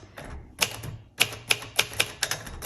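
A 1968 Royal Custom II manual typewriter is typed on. About a dozen sharp, close, clacking key strikes land in a quick, slightly uneven rhythm, with quieter mechanical clicks between them.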